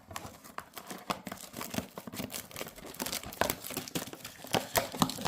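A trading card mega box package being opened by hand, with a steady run of close crinkling and tearing of wrapper and cardboard, soft and unbroken by speech.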